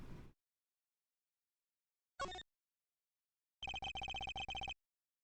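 A phone rings in the Apollo Justice video game: a short electronic burst, a pause, then a rapid trilling ring of several quick repeated pulses, clean against silence.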